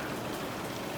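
Steady rain pattering on a sailboat at sea in the Caribbean, a dense, even hiss of drops spread across the whole moment, close and continuous with no voices.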